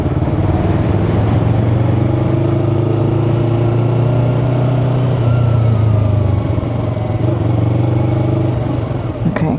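A Yamaha R3 motorcycle engine pulling away and accelerating after a gear change, loud and close from the rider's position, a steady droning rise in pitch with wind rumble throughout.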